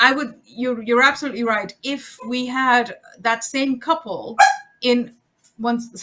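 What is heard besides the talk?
dog barking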